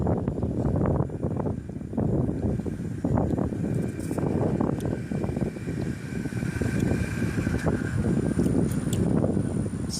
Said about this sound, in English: It's nice and cool out here today. Kind of windy, as you can probably hear.